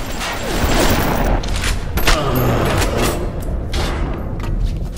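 Shotgun blasts in the Bioshock video game, a few loud booming shots in quick succession amid dense game noise.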